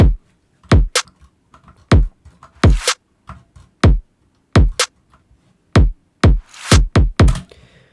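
A basic trap snare sample from a Production Music Live pack, layered with a kick, repeats in a steady beat of about a dozen sharp, punchy hits with deep low thumps, each dropping quickly to near silence.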